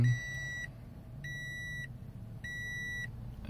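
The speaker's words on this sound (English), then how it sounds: "I get all these warnings" Warning chimes in a 2017 Toyota Corolla cabin: three evenly spaced electronic beep bursts, each lasting over half a second, over a low idling hum.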